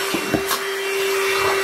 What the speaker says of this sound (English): Oh my gosh, this works so good. Wow, it's picking up everything.